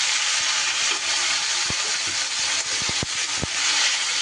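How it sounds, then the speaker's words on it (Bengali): Cut okra frying in hot oil, the same oil just used for potatoes, makes a constant bright sizzle, with scattered clicks and knocks from stirring in the pan and no talking. "এবার ঢ্যাঁড়সগুলোকেও আমি ওইভাবে সুন্দর করে ভেজে নেব"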